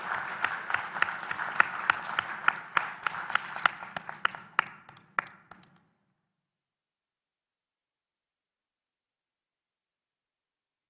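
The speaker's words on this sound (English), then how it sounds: "with a round of applause, please" Applause from a modest audience at a technical conference presentation, individual claps audible in a fairly quiet room, fading out after about six seconds into silence.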